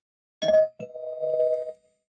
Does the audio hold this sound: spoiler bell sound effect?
yes